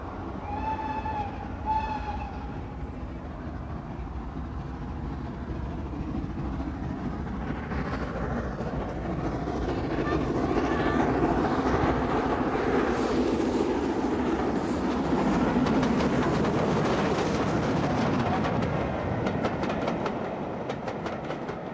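Preserved SR Schools class steam locomotive Repton running on the Great Central Railway, a short whistle at the start followed by a heavy, building rumble and rhythmic clatter of the train passing close by.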